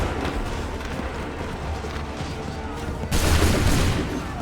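Massed musket volley fired by a line of soldiers in Assassin's Creed 3, a dense crackling burst of gunfire that swells suddenly and loudly over a steady battlefield din of shots and rumble.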